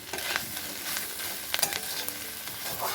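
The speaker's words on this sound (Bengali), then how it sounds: "আর খুন্তি দিয়ে ভালো করে এটা মেশানোর চেষ্টা করব" Vegetables coated in mustard paste are stirred with a spatula in a pan, producing a close sizzle broken by irregular scraping and clacking strokes of the spatula against the metal.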